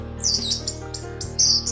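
Orange-headed thrush (anis merah) song: bright, repeated chirping phrases heard close and fairly loud, with short bursts and pauses and a steady low hum underneath.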